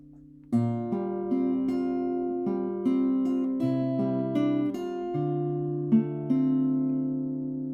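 Plucked guitar chords ringing out one after another at a slow, steady pace, clear and close, with no voices.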